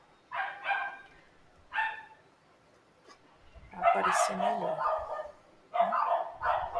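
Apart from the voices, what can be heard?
dogs barking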